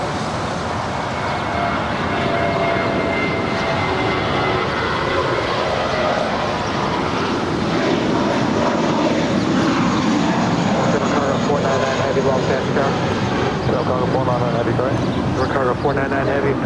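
A large airliner begins its takeoff roll on the north side of LAX, with a broad, continuous jet engine roar that stays loud and steady throughout, while voices talk over it.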